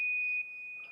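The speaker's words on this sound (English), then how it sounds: "That sounds like alarms going off in his house." A high-pitched alarm in a house emits a pure, piercing electronic beep that holds steady through a brief moment, loud and close, with nothing else around it.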